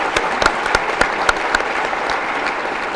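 An awards-ceremony crowd claps for high-achieving students, loud continuous applause with a few distinct sharp claps near the start, steady throughout.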